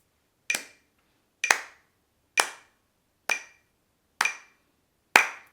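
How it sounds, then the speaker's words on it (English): Six sharp hand claps land at an even, steady pulse about a second apart, close and clear with short decays, keeping time with a metronome during a fiddle lesson; no talking. "That's just clapping with the metronome."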